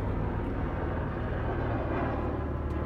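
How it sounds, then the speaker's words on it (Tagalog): A helicopter flies past outside an open door, heard indoors as a steady, loud low rumble and broadband drone that holds constant throughout, with no talk over it. "At the same time po ay may helicopter po sa labas."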